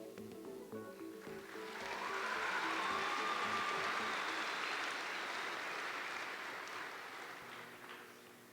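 Applause from a dairy cattle show audience rises from quiet to a full, steady clapping from a sizable crowd, then gradually tapers off near the end.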